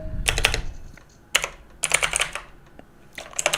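Quick bursts of clicking keystrokes on a computer keyboard, several short clusters of typing separated by brief pauses, close and clear.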